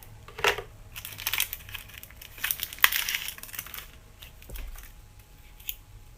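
Scissors snip through sequin trim during a crafting product unboxing, with a few close, crisp cutting and crinkling sounds and quiet gaps between them.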